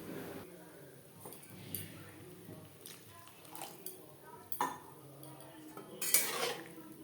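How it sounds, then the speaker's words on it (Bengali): Spatula scraping and clinking in a pan while puti fish gravy is mashed, a few scattered metallic taps and scrapes, with a sharper clink near the end, faint and close. "এভাবে একটু খুন্তির সাহায্যে ম্যাশ করে দেব।"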